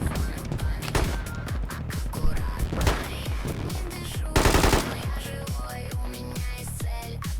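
Gunfire in the military shooter Squad, rapid automatic bursts cracking in quick succession with a few louder shots, close and sustained.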